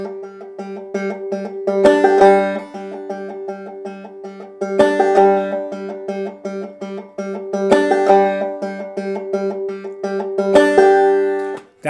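Clawhammer banjo with the thumb riding the open third string, a repetitive plucked pattern of bright, ringing notes in steady rhythm, each phrase opening with a stronger strum, close and clear with no speech.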